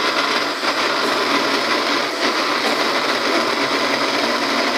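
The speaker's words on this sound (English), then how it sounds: "Blending." Kitchen blender running steadily while blending a milk-based uji (porridge flour) mixture at home, a loud continuous whirring motor noise with no talking.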